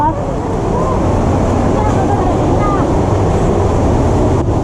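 Strong river water rushes steadily through Wawa dam after a recent storm, a loud constant roar with no letup across the whole stretch, with faint voices blending into the wash.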